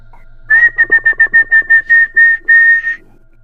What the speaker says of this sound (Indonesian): Coba kita siul.